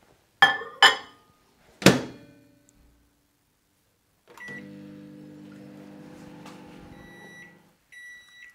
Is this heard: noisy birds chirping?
no